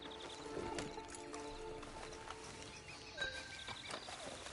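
Hooves clip-clop at a walk from a horse in Red Dead Redemption 2, quiet and fairly close, with a few scattered thuds and soft snorts.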